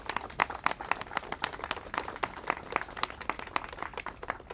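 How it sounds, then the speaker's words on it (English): Sparse applause from a small audience at a congressional delegation event, scattered claps coming irregularly and fairly faint, with no voices over it. "Let's give them all a big round of applause"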